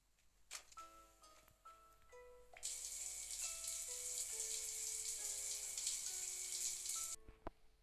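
Steady hissing spray of running shower water in the Roblox game Livetopia starts after a few soft clicks and tones, continuing evenly for several seconds before cutting off abruptly.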